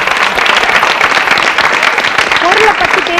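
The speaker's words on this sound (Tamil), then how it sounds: "சுதர்ஷனுக்கு வந்து ஒரு நல்ல கைத்தட்டல் கொடுங்க." Audience applause for a child contestant at a Tamil speech championship fills the stretch, a dense and steady burst of clapping from a crowd, close and loud throughout.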